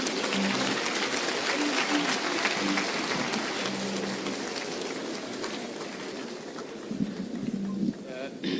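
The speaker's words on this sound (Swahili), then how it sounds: "Makofi." Sustained crowd applause at an Alliance High School event in Kenya, welcoming the Deputy President, with broadband clapping running steadily throughout and a voice faintly audible underneath.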